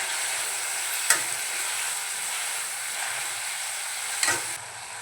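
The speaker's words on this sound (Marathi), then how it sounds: "आता छान आपल्याला मिक्स करून घ्यायचं आहे." Pav bhaji mixture being stirred in a pan, a steady bright sizzle with two brief scraping knocks of the spoon against the pan, close and fairly loud.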